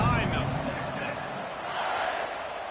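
A video-game stadium crowd at an NCAA football game roars in a steady broadband wash before a kickoff, loud and sustained throughout, with a commentator talking over it.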